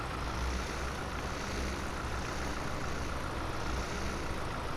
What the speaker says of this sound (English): just to let you hear these old tractors